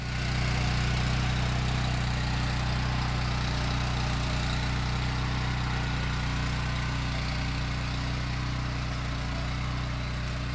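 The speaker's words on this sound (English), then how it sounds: "run in the 2-wheel tractor with the power harrow" A two-wheel tractor with a power harrow runs steadily, a constant low engine drone with a dense mechanical rumble and hiss, unchanging throughout and fairly close.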